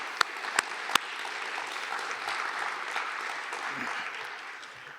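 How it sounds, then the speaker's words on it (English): An audience at a lecture applauds, opening with a few sharp single claps that swell into sustained, dense clapping before gradually tapering off at the end. "So let's give her a round of applause, her and her team really quick."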